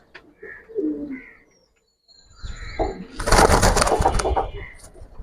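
Giribaz pigeons at a farm coo and flutter, with soft low calls early on, then a louder, dense burst of cooing and wing rustle close by after a brief silence, with faint voices in the background.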